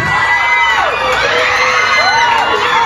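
A dense crowd at an outdoor mayoral campaign rally in Pasig cheers, whoops and shouts continuously, loud and close, with high yells rising above the roar.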